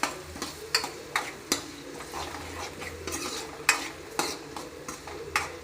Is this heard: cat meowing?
no